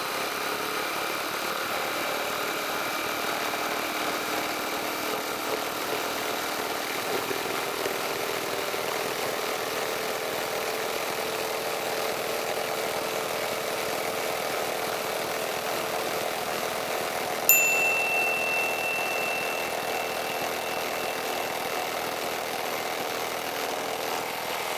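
A Milwaukee M18 impact driver on a high-output 8 Ah battery drives a lag bolt into a block, giving a continuous, fairly loud hammering whir that holds steady for about twenty-five seconds, with one sharp click partway through.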